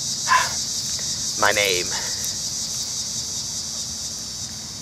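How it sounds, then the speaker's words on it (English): Outdoor insects, crickets, chirp steadily in a dense high-pitched drone throughout, with a person speaking briefly near the start. "These bugs. They're outrageous."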